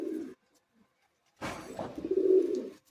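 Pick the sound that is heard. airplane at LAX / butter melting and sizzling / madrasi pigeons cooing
madrasi pigeons cooing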